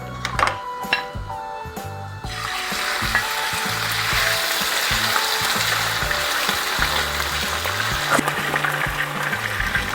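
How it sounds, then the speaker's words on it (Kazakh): Meat frying in oil in a preheated skillet, a loud continuous sizzle that starts abruptly after a few quiet clinks and holds steady to the end, with light stirring scrapes. "Енді біз етімізді қуырамыз."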